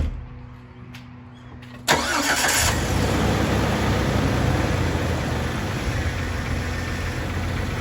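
A truck reverses with its winch in free spool. After a quiet start, the engine suddenly roars to a loud, steady rumble that holds close and continuous, with no voices over it.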